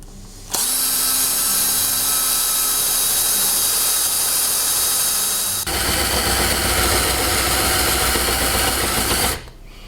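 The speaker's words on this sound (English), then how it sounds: "Last operation on the underside is to give them a good big countersink like this" A drill cuts large countersinks into engine port holes, running as a loud, steady, close whine that drops to a heavier grinding tone halfway through before stopping, with no voices.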